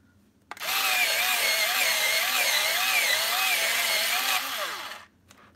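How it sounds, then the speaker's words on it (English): An electric sharpener starts abruptly and runs for about four and a half seconds with a steady whining, wavering grind, loud and close, then cuts off sharply, with no voices. "you guys see the electric sharpener, and I'm using this as the electric sharpener"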